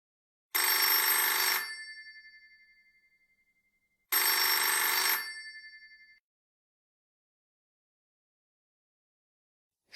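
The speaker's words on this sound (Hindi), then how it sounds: "टेलीफोन।" A telephone rings in two loud, bright bursts about three seconds apart, each ring trailing off into silence, with the start of a third at the very end.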